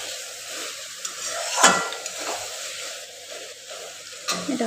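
Soybean kosha with garam masala sizzling and frying in a pan while a utensil stirs and scrapes it, with occasional clinks against the pan under a steady close sizzle.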